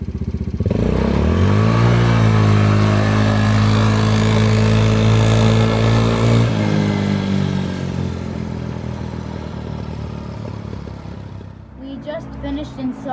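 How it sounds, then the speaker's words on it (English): A Yamaha Raptor 90 ATV on its stock exhaust passes at full throttle, the loud engine note climbing as it approaches and dropping as it moves away, fading into quieter background noise. "Here's a full throttle flyby on the stock exhaust system."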